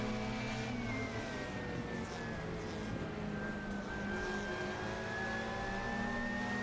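Steady engine drone from inside a BMW 320 touring race car in a racing simulator, a raw mid-pitched note holding and shifting slightly in pitch throughout, continuous and fairly loud.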